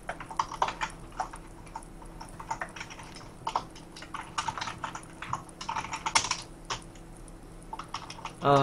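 Rapid clattering keystrokes on a computer keyboard while someone writes code in an editor, irregular bursts of close taps with short pauses, ending in a louder clack.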